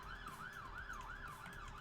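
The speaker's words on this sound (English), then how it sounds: "Sorry about the sirens." Emergency vehicle siren wailing outside, a faint, distant rising-and-falling tone cycling about every third of a second over low traffic rumble.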